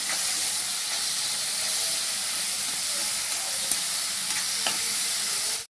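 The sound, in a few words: stirring grated beetroot in a pan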